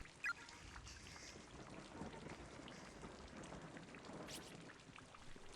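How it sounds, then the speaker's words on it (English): Steady heavy rain by a pool in the horror video game Corpse Party, a dense, even hiss of falling water with faint low rumbling beneath, continuing unbroken with no voices. "That's a lot of rain."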